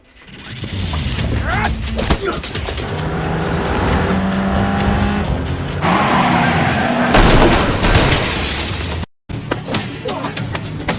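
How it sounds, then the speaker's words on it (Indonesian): In the action film The Divine, one car rams another: loud engine roar builds, then crunching, shattering impacts and booms, with a sudden brief silence before the noise resumes. "berhasil menabrak mobil penasehat Wang hingga rusak parah"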